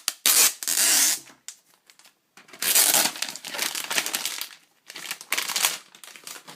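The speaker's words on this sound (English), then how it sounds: "first of all we need to take the plastic wrap off" Loud, close crinkling and tearing of plastic wrap as it is peeled off an iPad Air box, in three long bursts separated by short pauses.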